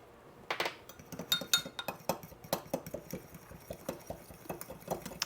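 A utensil stirs water and flour together in a metal pot for homemade stew, producing rapid, steady clinks and scrapes against the pot close by, with no talking.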